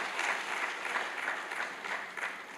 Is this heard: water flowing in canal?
no